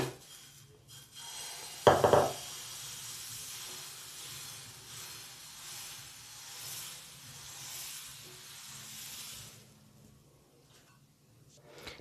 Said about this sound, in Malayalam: പാൻ ചൂടായി കഴിയുമ്പോൾ അതിനകത്തിലോട്ട് നമ്മൾ എടുത്ത് വെച്ചേക്കുന്ന മാവ് ഒഴിച്ചു കൊടുക്കാം